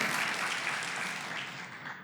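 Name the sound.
congregation applause in church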